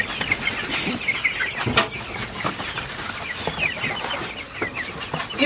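Chickens cluck and chatter continuously inside a chicken house, a dense close-up flock sound with occasional sharper calls and brief wing flaps.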